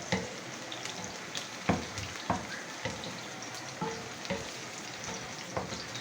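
Onions frying in a pan until brown, a steady close sizzle broken by repeated scraping and stirring knocks at irregular intervals.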